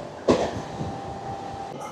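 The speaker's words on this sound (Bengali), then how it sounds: "পুরুলিয়া জংশন স্টেশন পার করার পরে বাঁকুড়া ঢোকার আগে ট্রেনের স্পিড হচ্ছে 100 কিলোমিটার প্রতি ঘন্টা" A passenger train runs at about 100 km/h between Purulia Junction and Bankura on the Purulia to Howrah route, giving a steady rumbling roll with a sharp knock near the start.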